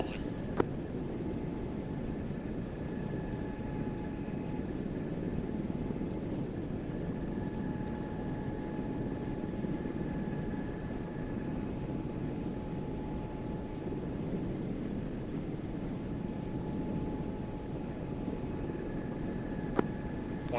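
Helicopter engines in a video game spool up as a steady, loud droning roar with faint whining tones, continuous and unchanging across the whole stretch.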